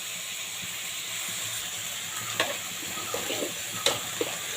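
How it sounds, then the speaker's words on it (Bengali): Carrots and other vegetables frying in a pan, a steady close hiss of oil with occasional light scrapes and taps of a spoon. "তো এটাকে আমি ভাজবো সুন্দর করে।"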